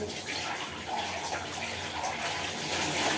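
Water splashing and running steadily while clothes are rinsed by hand, a continuous broadband wash of moderate loudness with no speech.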